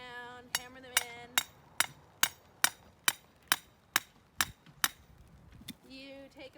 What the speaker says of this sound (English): You put them in the ground, hammer them in.